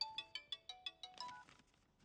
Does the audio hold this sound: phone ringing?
yes